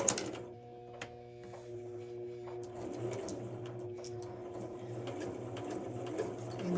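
Domestic sewing machine stitching fabric while taking in a waist and hemming, a steady mechanical whirr with fast rhythmic ticking, running in bursts as it goes forward and reverses, close and moderate in level, with no talk over it.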